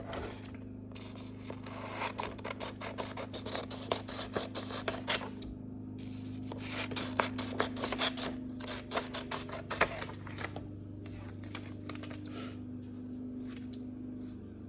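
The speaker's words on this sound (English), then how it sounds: "So first I'm going to cut the bottom out." Scissors cut the bottom off a paper worksheet, heard as close, crisp snips and paper rustles coming in irregular clusters over a steady low hum, no talking.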